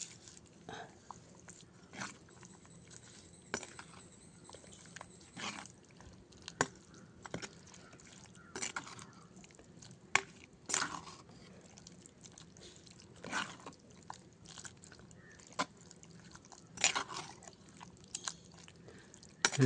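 A spoon stirs roasted coconut through thick jackfruit erissery curry: soft, sporadic wet squelches and light clicks against the pot, quiet and irregular throughout, with no voices.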